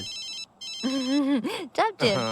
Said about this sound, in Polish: telefon dzwoni